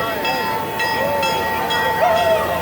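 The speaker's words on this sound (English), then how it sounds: "Here comes the train." A theme park train pulls into the Crack Axle Canyon station at Six Flags Fiesta Texas, its steady rumble and squealing metallic tones carrying over crowd murmur.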